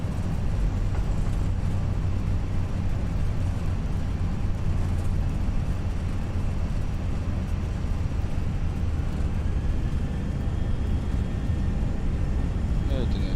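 An A319 rolls out on landing in the Prepar3D flight simulator with its thrust reversers engaged, giving a steady, broad, unbroken roar that holds level for the whole stretch.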